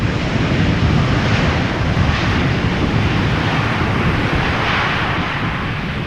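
A fixed-wing airliner landing in a crosswind at Amsterdam Schiphol Airport gives a loud, steady engine roar mixed with wind rush, heard from nearby and holding constant throughout with no talking.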